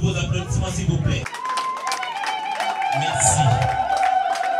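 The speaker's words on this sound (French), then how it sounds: "Le parrain, sous vos applaudissements, s'il vous plaît." Audience applause greets the godfather at a Congolese civil wedding in Kinshasa, a burst of clapping and crowd noise at the start that gives way to a sustained tone, with chatter mixed in.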